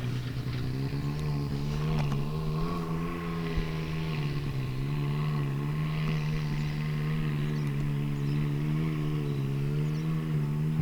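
A Can-Am Maverick X3 with an aftermarket exhaust runs steadily for the whole stretch, a deep droning engine note that rises and falls slightly in pitch, loud and close, with no talking.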